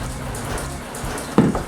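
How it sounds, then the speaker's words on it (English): Steady rain falls outside in California, a soft, even patter of drops heard close by, with a few brief louder splashes or taps near the end. "Listen to that rain. It sounds awesome."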